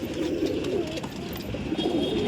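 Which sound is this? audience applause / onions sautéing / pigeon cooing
pigeon cooing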